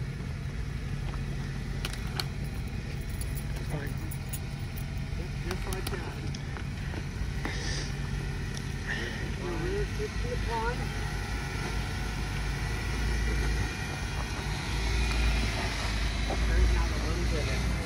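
Jeep with full hydro rear steer crawling a rocky off-road trail without lockers, its engine a steady low rumble throughout with scrapes and knocks of tyres on rock, while people talk over it.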